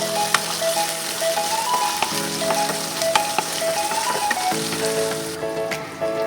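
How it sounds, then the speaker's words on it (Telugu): Ginger garlic paste and two chillies fry in a pan with a continuous crackling sizzle and scattered sharp pops, steady throughout with no voices. "మనకి అల్లం వెల్లుల్లి పేస్ట్ కూడా మంచిగా ఫ్రై అయింది."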